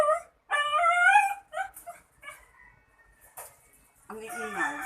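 Dogs bark and yelp in short, noisy bursts close by at a home, with gaps of quiet between outbursts and a louder flurry near the end.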